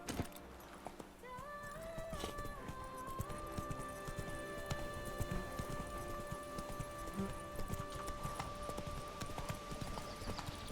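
Roach, the horse in The Witcher 3, gallops with quick, steady clip-clop hoofbeats throughout, carried over sustained musical tones.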